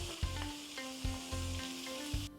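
Fatty pork belly frying in sesame oil for kimchi stew, a steady close hiss and crackle of sizzling fat with a few brief louder pops, heard alone.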